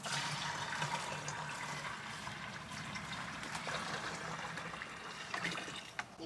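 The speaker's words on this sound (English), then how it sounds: "let me get some more water" Water pours and trickles from a container into a drinking dish for thirsty hens on an off-grid homestead, a continuous splashing, gurgling flow heard fairly close with small spatters.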